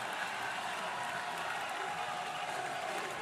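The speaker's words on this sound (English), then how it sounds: "Can this defense, supported by this frenzied crowd, make it tough on this young quarterback tonight?" A frenzied stadium crowd at an Oklahoma Sooners college football game against Michigan, a steady distant roar with scattered applause, fairly faint and continuous.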